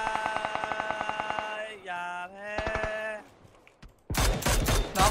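After several seconds of tonal, bleating electronic sounds, a loud burst of rapid gunfire erupts in the PUBG battle-royale video game, dense and close.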